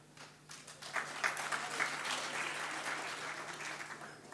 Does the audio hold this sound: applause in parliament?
yes